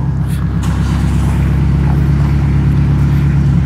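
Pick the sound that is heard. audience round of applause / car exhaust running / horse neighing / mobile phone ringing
car exhaust running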